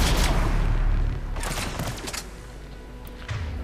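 Gunfire in the Mass Effect 3 video game: a rapid burst of shots at the start, then scattered sharper reports over a lower rumble of combat noise.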